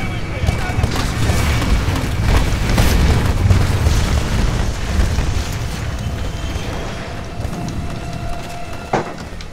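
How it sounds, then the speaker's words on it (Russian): A grenade blast in the video game Titanfall, a loud booming rumble that fills the scene and stays dense with continuous battle noise throughout. "Кидаем гранату."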